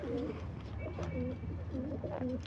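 Pigeons on a rooftop giving repeated soft, low cooing calls in a rolling rhythm, close and moderately loud over a faint background hum.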